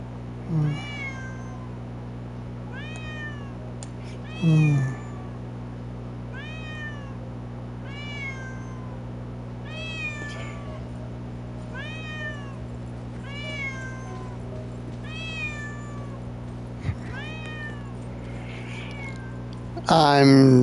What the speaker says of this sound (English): I'm just a sucker for a meowing cat.